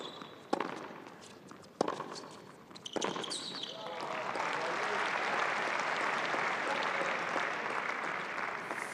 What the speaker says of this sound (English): some cheers out for the players and the rest of the crowd on hand